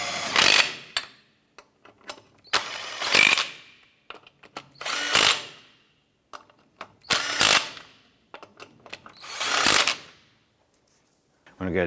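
A power tool spins lug nuts down onto a Chevy S10 wheel in five or six short, loud whirring bursts, with rattling and clinking between them.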